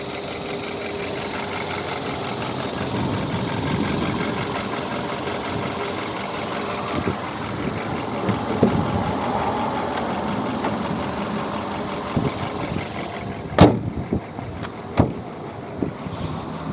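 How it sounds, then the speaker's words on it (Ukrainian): A 2008 VW Cross Polo 1.6 petrol engine idles steadily and evenly, a continuous low running hum with a few sharp clicks near the end. "Ось і робота двигуна."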